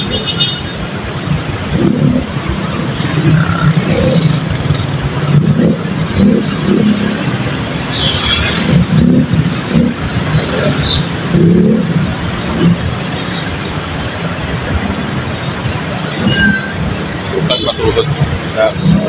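Steady road traffic at a busy highway crossing, heard from inside a car: a continuous low rumble of engines with a few brief horn toots, loud and close throughout, with people talking over it.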